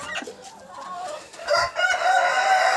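Farmyard hens cluck and squawk close by while eggs are being gathered, with a rooster-like crowing call rising near the end, the fowl noises dense and fairly loud throughout.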